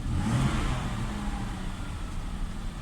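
A Toyota Crown engine idling after a gauge repair, a steady low hum with a faint rise and fall, heard from close by with no talk.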